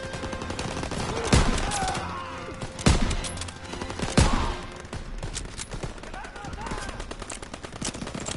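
Machine-gun fire and rifle shots rattle through a World War 2 Call of Duty battle, with sharp loud bursts standing out against continuous background combat and shouted voices.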